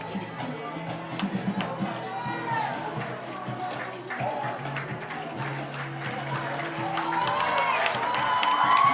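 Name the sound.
football fans cheering on their feet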